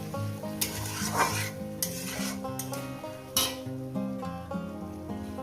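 Shredded cabbage sizzles in a hot pan for a katla fish-head chorchori, with a loud, steady frying hiss and repeated scraping stir strokes, while a tonal hum runs underneath.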